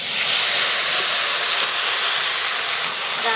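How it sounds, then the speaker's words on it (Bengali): Water pours into lentils lightly fried for mango dal, giving a loud, continuous rushing hiss that stays even and close for a few seconds. "এবার জল দিয়ে দেব।"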